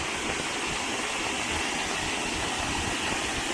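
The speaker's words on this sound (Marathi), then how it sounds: "जोरदार प्रवाह आहे" A waterfall in full spate after about an hour of heavy rain in the Konkan countryside, a steady, dense, loud roar of rushing water filling the air without pause.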